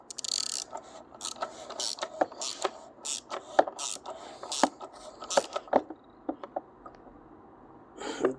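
Oil filter cap on a 2007 Volvo V50 being tightened by hand, a steady run of close ratcheting clicks and scraping mechanical ticks, irregular in rhythm and fairly quiet.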